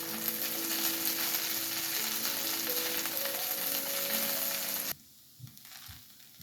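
Kanda poha being mixed with salt and lemon juice in a pan, giving a steady sizzle and scraping stir that runs loud for about five seconds, then cuts off abruptly into near quiet with a couple of soft knocks.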